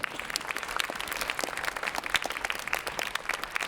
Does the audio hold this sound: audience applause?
yes